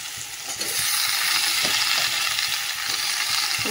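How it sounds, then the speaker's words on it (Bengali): Pumpkin and potato are stirred while frying in a pan, with a continuous loud sizzle and soft scraping of the stirring spoon. "তো কুমড়ো আলুটা একটু নেড়ে নিচ্ছি"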